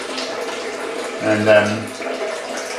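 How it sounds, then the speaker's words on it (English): Filtered water poured into a blender for a smoothie, a brief splashing trickle in the middle of the clip, with a short spoken word over it. "Bit of filtered water."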